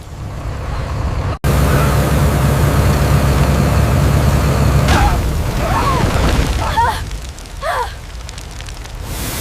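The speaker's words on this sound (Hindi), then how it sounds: "अब धमाका होगा।" A sudden loud cut gives way to a dense, roaring rumble like a blast and fire, as a burning engine explodes, with faint shouting voices rising through the din.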